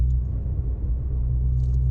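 A 1.4 Ford Fiesta on the road, its engine a steady low rumble and drone from inside the cabin, with faint light jingling near the end.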